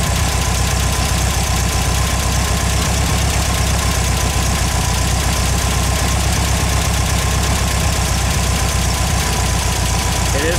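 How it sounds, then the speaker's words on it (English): A Volkswagen engine with a Solex 34 PICT-3 carburetor idles loudly and steadily, its even chugging rhythm unbroken throughout, with a faint higher whine running over it. "The engine should start slowing down."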